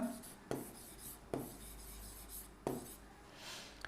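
Pen writing on a paper form, a soft close scratching in short strokes with three sharper taps as the pen lands, quiet and alone.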